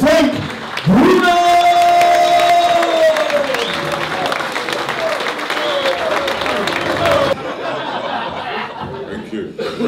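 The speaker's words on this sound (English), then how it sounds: "please give a massive round of applause" A live audience welcomes former heavyweight boxing champion Frank Bruno onto the stage at an evening event, with loud sustained applause, cheers and laughter from a big crowd that tapers off toward the end.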